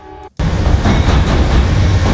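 Train from a sound effects library rumbling past close by, a loud steady broadband roar that cuts in abruptly after a brief tonal snippet.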